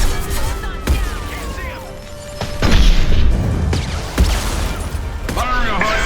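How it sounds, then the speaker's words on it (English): High impact shots fired in the sci-fi game Mass Effect 2 land as heavy booming blasts at intervals, with a deep thud and crash around the middle, set against combat noise and game voices. "Firing a high impact shot."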